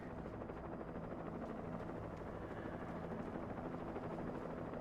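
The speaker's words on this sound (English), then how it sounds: "Helicopter." A helicopter in the video game Alan Wake gives a steady, dense rotor and engine drone that holds at an even, moderate level throughout, with no talk over it.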